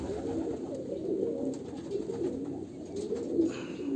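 Pet pigeons, a ringed male and female pair, cooing softly in a steady, low murmur that runs throughout, with faint chirps and household noise in the background.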